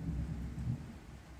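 Low, rumbling thunder rolls through a thunderstorm, a deep continuous growl with a faint wash of rain above it, steady and unaccompanied by talk.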